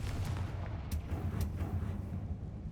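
Confringo fire spells explode in Hogwarts Legacy, a quick series of heavy booming blasts with sharp bursts over a rumbling low roar.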